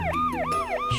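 Ambulance siren wailing in a rapid rising-and-falling sweep, repeating about every third of a second, loud and close as the emergency vehicle passes, with no voices over it.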